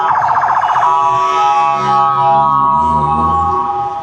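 On a street in Egypt, a car horn mimics a police siren with a loud wavering wail that shifts into steady tones, close and continuous over traffic noise.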